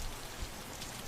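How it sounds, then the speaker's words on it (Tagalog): Steady rain falls from a very dark sky, a dense, even patter of drops that sounds close and continuous, with no voices. "Mukha rin kasi magtatagal ang ulan."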